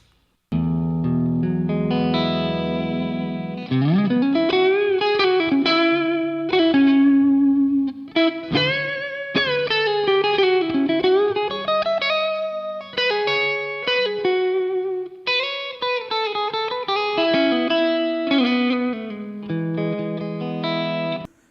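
A distorted electric guitar plays bluesy lead lines with bends and sustained notes over a held low chord, loud and processed through a Soran Dual Stomp Lite amp modeler blues tone, no talking.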